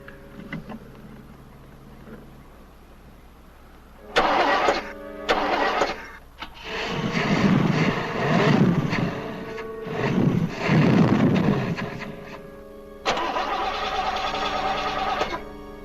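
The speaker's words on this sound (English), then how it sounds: "The car with you starting it." A car engine cranks with a whirring starter, catches and sputters through several uneven surges, then settles into a steady running drone, heard in an old horror-thriller film with no talking over it.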